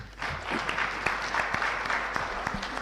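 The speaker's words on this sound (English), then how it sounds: "Another round of applause for Ambassador Macharia." An audience in a parliamentary chamber applauds after a speech by an ambassador, a steady burst of clapping from many hands lasting a few seconds, fairly close and full.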